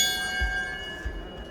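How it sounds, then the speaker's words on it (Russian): A bell rings out to signal the final lap of a women's 3000 m track race at a regional athletics championship, its sustained ringing tone carrying over crowd ambience. "Прозвенел колокол,"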